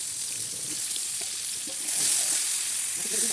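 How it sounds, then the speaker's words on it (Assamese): Potatoes frying in oil in a wok, a soft steady sizzle with faint stirring scrapes, close and continuous, growing slightly louder partway through. "এতিয়া কেৰাহীত তেল দি মই আলুখিনি ভাজি ল'ম।"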